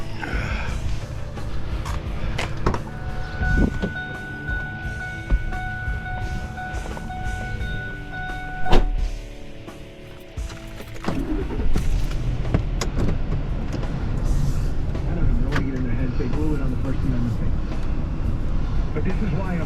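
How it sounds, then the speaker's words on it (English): A pickup truck at a scrap yard rolls forward with a continuous low engine rumble and grinding, clanking scrap-yard noise, with brief tonal squeals partway through. "Maybe I'll just pull the truck up further."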